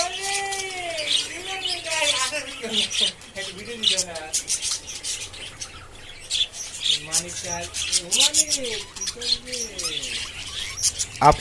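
Pet budgerigars chirp and warble during mating, a busy stream of close, bright whistled calls and squawky tweets that rise and fall almost without pause.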